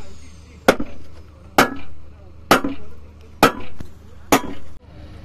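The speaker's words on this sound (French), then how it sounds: "Maintenant, elle est toute plate. Du coup, on va taper dessus." Five sharp, evenly spaced hammer blows ring out on a bent metal licence plate from a Peugeot 205 being beaten flat, each strike loud and close with a short metallic decay over a low steady hum.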